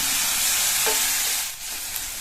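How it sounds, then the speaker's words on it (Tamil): Chopped onions sautéing in a pan with cumin give off a steady, close sizzling hiss with faint stirring scrapes, continuous and fairly loud without any voices. "சேர்த்த வெங்காயத்தை ஒரு 30 செகண்ட்ஸ்க்கு வதக்கியிருக்கேன்"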